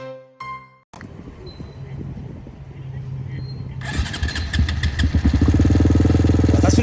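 After brief talk, a Honda Grom motorcycle engine starts and settles into a close, steady putter, growing louder toward the end.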